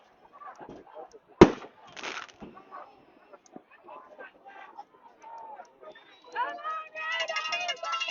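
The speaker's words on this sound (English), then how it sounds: "A little premature firework." A single sharp firework bang cracks out during a high school football game, McCreary vs Scott County, over a background of crowd and voices that continue talking afterward.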